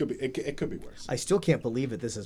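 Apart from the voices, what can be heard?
No everyday noises stand out.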